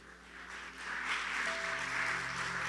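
Church congregation applauding the Lord during a Spanish-language sermon, a broad wash of clapping that swells and holds steady, with faint tonal sounds beneath.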